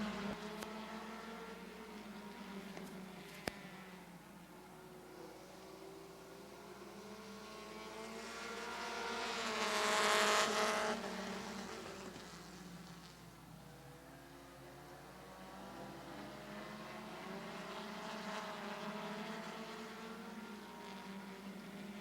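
Compact race cars at Midvale Speedway, their engines droning at a distance before one passes close and loud near the middle, then fades as more cars follow.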